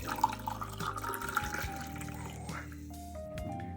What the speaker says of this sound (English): I'm just gonna pour this.